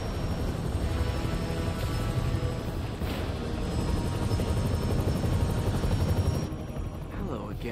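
Helicopter in the video game Marvel's Spider-Man, a steady loud rotor drone filling the whole stretch and easing slightly near the end.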